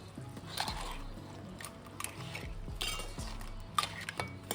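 Spicy Godavari-style crab curry stirred in a pot after coriander goes in, with soft scraping and faint clinks of a spoon against the metal, steady and close with no one talking.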